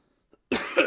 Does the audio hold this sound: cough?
yes